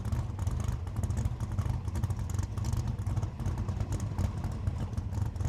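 A turbocharged drag car idles after its burnout at a drag week event, giving a steady low rumbling pulse with light mechanical clatter, fairly close and continuous.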